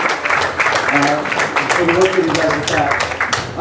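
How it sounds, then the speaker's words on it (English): Audience applause at a Dover congressional district forum, a steady wash of clapping filling the room, with voices talking over it. "please give Patrick an extra round of applause"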